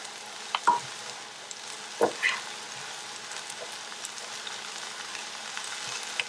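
Rice for a seafood risotto sizzles softly in a wide pot, a faint, steady frying hiss broken by a few sharp clicks of stirring.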